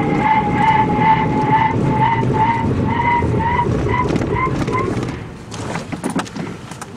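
A vehicle towing a trailer with a trailer brake controller brakes hard, producing a sustained pulsing squeal with a rumbling undertone that fades out into scattered rattles and bumps near the end.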